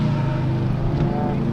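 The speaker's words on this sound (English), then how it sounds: "And we can hear the GT cars out on track." GT race cars run on the track at Sebring, heard as a steady, somewhat distant engine drone with a wash of broadband noise and no break.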